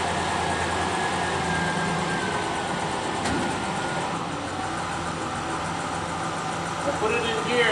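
Car engine running steadily as it is put in gear, a continuous close drone with little change in level and a brief click partway through; a voice talks briefly.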